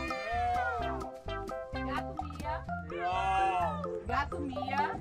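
A person imitates a cat's meow over and over in a game, each vocal meow rising and falling, close and loud, mixed with ongoing talk and voices.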